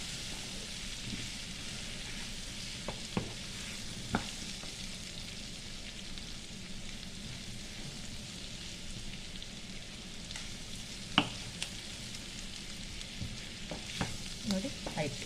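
Boiled, salted potatoes tipped into a frying pan and stirred, giving a steady, moderately loud sizzle with a few soft scraping knocks from the spoon and no voices.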